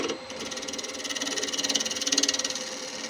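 A wood lathe spins a turned wooden Christmas tree as a tool makes a light scraping pass to clean off excess CA glue, giving a steady, close whirring hum with a faint rhythmic pulsing scrape.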